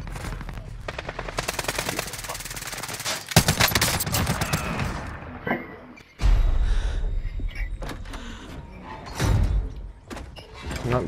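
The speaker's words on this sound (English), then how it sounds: "I got shot by the other Beninja." Rapid automatic gunfire and single shots ring out loudly in an online video game shooter, with dense bursts in the first half, a sharp blast around the midpoint, then more shots and impacts.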